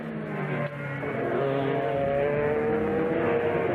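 Race cars at the Rolex 24 endurance race accelerate hard as a field on a restart, a dense, continuous roar of multiple engines with rising pitch, loud and steady throughout.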